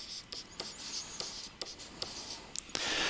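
Pen or pencil writing on paper while solving an algebra mean-median-mode problem, quiet close scratchy strokes in short bursts with small taps, no talking.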